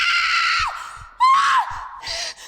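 A person screams in panic, trapped in a tiny dark enclosed space, with loud, shrill drawn-out cries broken by brief gaps and sharp breaths, alone without talk.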